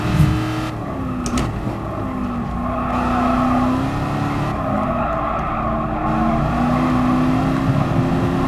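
A race car engine in Gran Turismo Sport revs and drones steadily as the car drives, with rising and falling engine pitch, a brief tyre skid near the start, and no talking.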